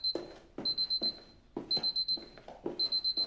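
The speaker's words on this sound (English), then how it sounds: "Stupid alarm." Alarm clock ringing in a TV drama, rapid bursts of shrill electronic beeps repeating in a steady pattern, each group separated by short thumps, loud and close.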